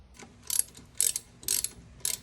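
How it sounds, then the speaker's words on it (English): A hand ratchet tightens exhaust manifold bolts on a Chevy 350 in a C10 pickup, four evenly spaced bursts of close, crisp clicking about half a second apart. "All right, time to tighten them in and torque them down."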